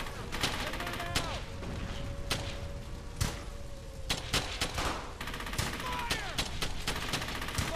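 Bursts of machine gun fire and scattered gunshots in the World War II game Brothers In Arms: Hell's Highway, dense rattling volleys with sharp cracks over a constant battle din.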